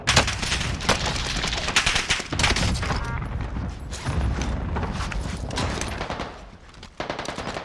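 Rapid bursts of P90 submachine gun fire in Call of Duty on Rebirth Island, loud and dense, with overlapping shots and booming impacts running almost continuously before a brief lull near the end.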